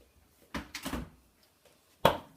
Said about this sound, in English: But close the doors now.